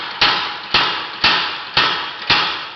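A home-built, pedal-controlled power hammer strikes five times in an even rhythm, each loud metallic blow ringing briefly before the next.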